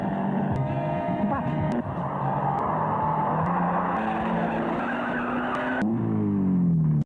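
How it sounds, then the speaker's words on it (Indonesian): Datsun car racing along a quiet road at high speed while overtaking another car, with a loud continuous engine roar, screeching tires and skidding throughout, swelling near the end. "Datsun yang ditumpangi Rocky berhasil menyalip dan memepetnya."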